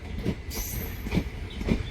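A small train runs along the rails nearby, with rhythmic wheel clatter and a thin high squeal over a steady rumble.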